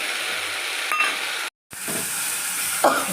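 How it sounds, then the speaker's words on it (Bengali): Spice paste of ginger paste, ground coriander, turmeric and chili powder sizzling steadily in hot oil in a pan, a continuous close hiss broken by a brief silent gap and a soft clink of a utensil near the end. "মশলাটা ভাজা ভাজা হয়ে গেছে তেল ছেড়ে দিয়েছি দেখুন"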